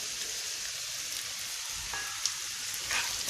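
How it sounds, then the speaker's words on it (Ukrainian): Carrots and other vegetables for a pumpkin ragout fry in a pan, giving a steady, close sizzle with faint crackles and a soft clink or two of stirring. "трішки обжарюємо, посолимо"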